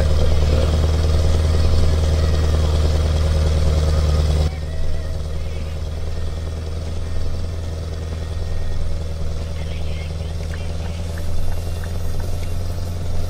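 Heavy truck engine in Euro Truck Simulator 2, hauling a 24-meter tandem, with a loud steady low drone that drops to a softer, duller hum partway through and holds there to the end.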